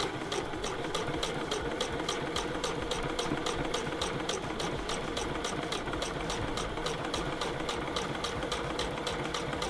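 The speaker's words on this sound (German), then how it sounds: "Und jetzt nähen wir einfach knappkantig ab." A sewing machine stitches bias tape close to the fabric edge, running continuously with a rapid, even needle beat over a steady motor whir, close and without talking.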